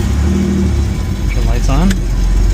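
A 1986 Pontiac Fiero GT engine runs at a steady, close mid-pitched drone while someone speaks over it.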